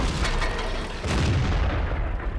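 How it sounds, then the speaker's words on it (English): Bat Chat tank cannon firing in World of Tanks clan war on the Westfield map: a deep, loud boom with a rumbling tail, followed by a second heavy blast, no voices. "our Bat Chat here is firing the enemy's Bat Chat"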